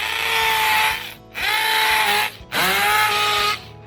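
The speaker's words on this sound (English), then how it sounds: "I'll make sure I drill shorter for this" Power drill boring a short hole for a wall plug while a Ring Doorbell 4 goes up, three loud sustained bursts of high whining motor with brief pauses between, no voices.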